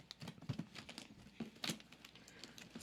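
Taped packaging of a Lego Pantasy Bakery set is opened, producing faint, close crinkling and scattered tearing rustles in brief irregular bursts.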